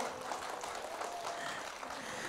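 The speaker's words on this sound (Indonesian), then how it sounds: "sekali lagi kita berikan tepuk tangan yuk untuk teman-teman kita dengan tarian Nirmala" Faint, distant applause rises from an audience after a children's dance performance by kindergarten and primary school pupils in Palembang. The clapping is soft and diffuse, with a thin tonal hum running beneath it.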